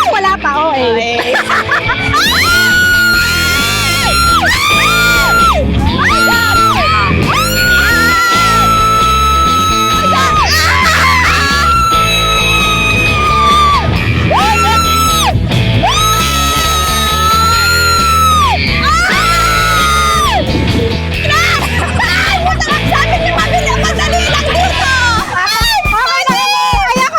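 Riders screaming and shrieking on a scary amusement ride, loud overlapping high-pitched yells rising and falling in waves, with frightened voices calling out between screams.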